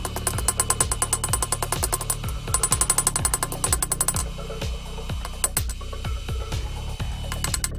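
Hammer blows on a forged steel herb chopper blade to straighten its wavy edge, a steady run of sharp ringing metallic strikes in quick bursts with short pauses, close and loud.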